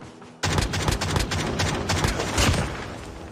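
Gunfire in Call of Duty Mobile, a burst of loud, dense shots erupting suddenly after a quiet start and continuing as sustained rapid fire with sharp peaks throughout.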